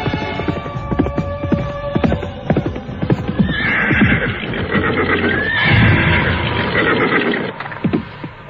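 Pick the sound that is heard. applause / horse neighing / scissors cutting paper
horse neighing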